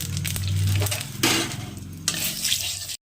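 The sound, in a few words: whole cumin and bay leaf sizzling in hot oil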